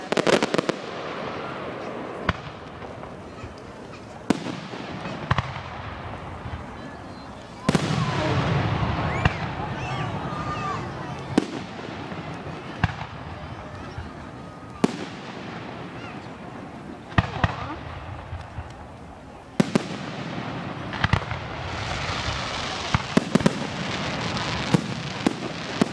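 Canada Day fireworks in Woodstock, Ontario burst in a series of loud, sharp explosions spaced a few seconds apart, each followed by crackling and rumbling decay, with a crowd murmuring in the background.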